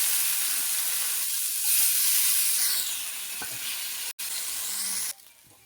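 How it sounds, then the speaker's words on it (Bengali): Potatoes fry in oil left over from frying rohu fish, giving a loud, continuous sizzle and hiss close by. The sound wavers slightly, then drops away sharply near the end. "মাছের তেলে আমি আলুটা দিয়ে দেবো"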